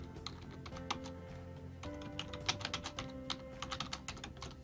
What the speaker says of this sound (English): the way it works is if I type something in